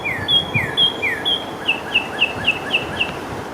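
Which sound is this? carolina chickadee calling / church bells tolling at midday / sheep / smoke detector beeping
carolina chickadee calling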